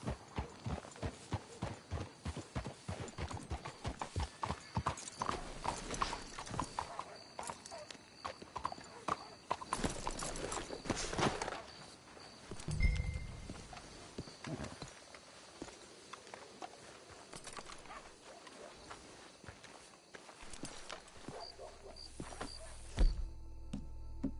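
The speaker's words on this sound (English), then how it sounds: "Let's hitch the horses up ahead." Horse hooves clip-clop in Red Dead Redemption 2, a sharp, rhythmic run of hoofbeats that slows and scatters as the horses come to a stop. A whinny and a few thuds follow, with brief game dialogue.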